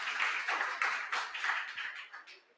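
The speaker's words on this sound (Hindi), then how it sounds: "ताली बजानी तो आते हो तुम यहाँ?" Students in a classroom clap together in a brief burst of applause, with dense overlapping hand claps that fade toward the end.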